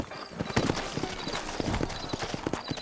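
Horses trot in Red Dead Redemption, their hooves clopping in a quick, steady rhythm on the ground, fairly close and continuous.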